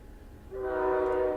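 A train passing through a town sounds its horn, a steady sustained chord that starts abruptly after a moment of low rumble and holds at moderate loudness.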